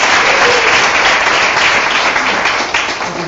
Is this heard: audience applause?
yes